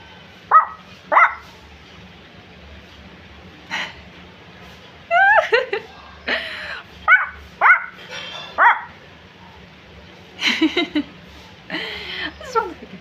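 A person voices barking imitations of a dog, several separate short woofs and yips, loud and close, in irregular bursts with pauses between them.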